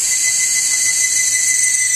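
A drill boring bolt holes for a gate, giving a steady high-pitched whine that runs without a break, loud and close.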